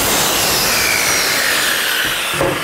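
A wooden closet shelf is cut to length with a saw, giving a loud, continuous, close-up rasping cut. It runs unbroken for a few seconds and shifts slightly at the end.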